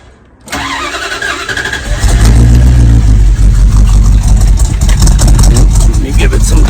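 A 1980 Dodge B200 camper van's carbureted engine cranks and catches within a second, then settles into a loud, steady, slightly raised idle close by.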